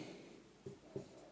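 Pen or chalk writing on paper or a board during a class 7 maths lesson, heard as a few short, soft scratching strokes close by, with no talking.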